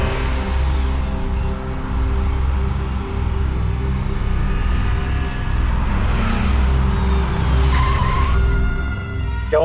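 A hired car skids to a stop on the road with a long, loud tire squeal over engine rumble, the screech swelling toward the end.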